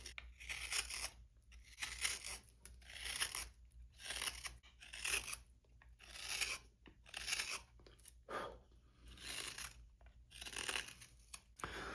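A sharp hook knife carves a wooden scoop, taking bits off at a time in quiet, rhythmic scraping and shaving strokes, each short cut separated by brief pauses.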